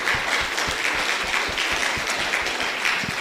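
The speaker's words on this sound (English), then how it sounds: "big round of applause" A small audience claps after a talk and Q&A session on sustainable fashion, a brief stretch of close, sparse clapping with distinct individual hand claps.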